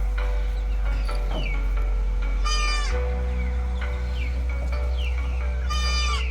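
Goats bleat repeatedly while being carried near a canal, several loud, wavering cries rising close by over a constant low rumble, spaced irregularly through the stretch.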